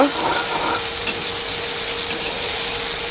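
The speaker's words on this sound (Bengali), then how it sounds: "আদা কাঁচা লঙ্কা বাটা দিয়ে দিলাম। এটাকে একটু নাড়াচাড়া করে নেব।" Ginger and green chili paste sizzling in hot oil in a pan as it is stirred, a dense, steady frying hiss with faint scraping, close and fairly loud.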